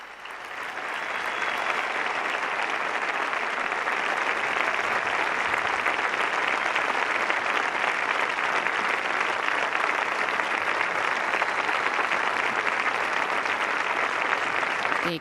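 A large crowd of university students at the Universidade Católica Portuguesa applauds the Pope's speech, a dense, sustained wash of clapping that swells within the first second and holds steady and loud throughout.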